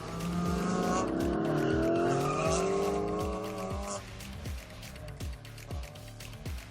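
A race car revs loudly up close while its tires squeal and skid. The engine fades out and is followed by a run of sharp, rhythmic ticks.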